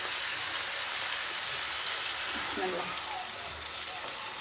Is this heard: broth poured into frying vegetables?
yes